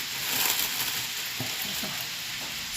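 Butter fries in a pan with a steady, close hiss of sizzling. A few soft stirring scrapes come through on top, and no one speaks.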